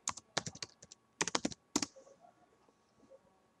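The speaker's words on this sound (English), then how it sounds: "Let me type it in." Quick bursts of crisp keystrokes on a computer keyboard, several rapid clicks in a few clusters within two seconds, then near silence with only faint background noise.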